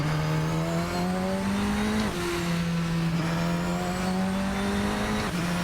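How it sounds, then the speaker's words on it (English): A Radical SR10 XXR8 race car engine in Assetto Corsa drones at steady high revs with a turbo whine and wastegate sound, dipping briefly at gear shifts, loud and continuous with no talking. "Yeah, you could definitely hear the turbo."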